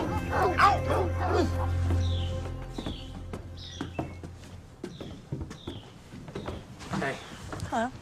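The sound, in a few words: dog barking and whimpering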